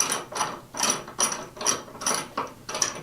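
A ratchet drives screws into a bandsaw base with quick clicking bursts, about six even strokes, close and clear in a quiet shop.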